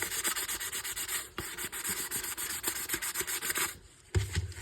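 Plastic being sanded by hand with 180 grit sandpaper, a close, continuous rhythmic scratching rub of quick back-and-forth strokes, briefly pausing near the end.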